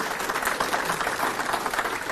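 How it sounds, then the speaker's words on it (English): Applause fills the room at the Swimming Victoria Awards evening, a steady, even crowd clapping throughout with no pauses. "Let's give them a round of applause and make them feel welcome too"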